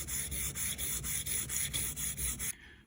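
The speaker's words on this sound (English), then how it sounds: "it's like I think it's 280 grit sandpaper, and I just want to sand" Fine 280-grit sandpaper rubbed over a Foamex PVC foam board surface in steady back-and-forth strokes, about ten quick even passes close up, then stopping abruptly.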